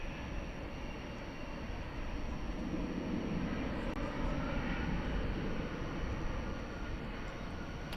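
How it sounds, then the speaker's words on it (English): A Qatar Airways Airbus A350-1000 widebody jet taking off at night at Dallas Fort Worth airport, heard far away as a steady, muted engine roar that holds even throughout. "So that's the Qatar A350 1000. It's pretty far away."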